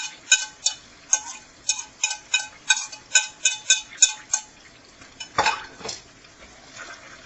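Ground meat with chopped garlic and green onion being stirred in a pan for lasagna, heard as a run of regular, crisp scraping clicks of a utensil against the pan, then a couple of louder clattering scrapes.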